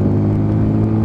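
A Lexmoto Ranger motorcycle engine revs steadily and loudly up close, a sustained rising drone with no voices over it.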